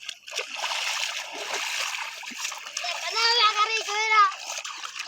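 Water splashes and churns noisily for a few seconds, then a voice rises over the trickling water that follows.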